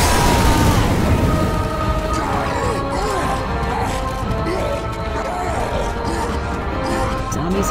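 A pipe bomb goes off in Left 4 Dead 2 during a swamp level on expert difficulty. A loud booming blast opens the clip, followed by dense game noise with echoing crashes and effects that stay steady and close.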